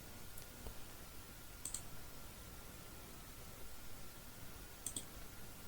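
Sharp, faint mouse clicks in a quiet screen recording of uploading an Android app to the Google Play Store, a couple of isolated clicks spaced seconds apart over low background hiss.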